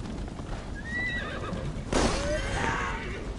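A horse in the Assassin's Creed Valhalla video game whinnies loudly and snorts, with hooves clopping underneath against steady background game noise.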